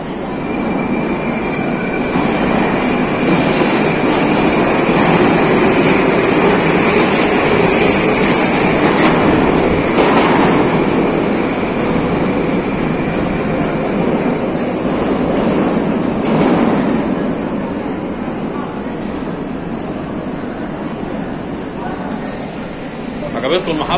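A Moscow metro train sounds in an underground station: a loud, steady roar and rumble of the carriages runs throughout, with rail noise swelling at moments and voices faintly audible in the background.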